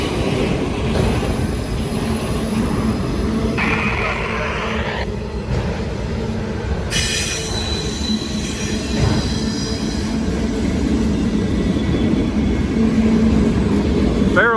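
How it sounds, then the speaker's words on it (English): Freight train passing close by on the track, a loud, sustained roll of wagons with sharp wheel squeals rising and cutting off over the rumble. "That was the first train that went by."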